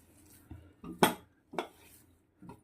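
Rice flour dough for tappala rotte is mixed in a bowl, with a few separate clunks and scrapes of a utensil against the bowl, close and moderately loud.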